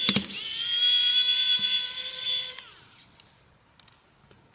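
A powered screwdriver backs screws out of a Dialn X62 phone motherboard, with a close, high-pitched whir for about two seconds that winds down, followed by a few small clicks.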